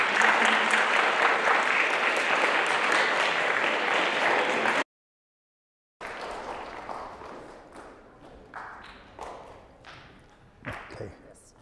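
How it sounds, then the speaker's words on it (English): A middle school audience in Schenectady claps in dense, steady applause that cuts off abruptly, then a few scattered claps and thuds follow as the room settles. "can you give him a big round of applause?"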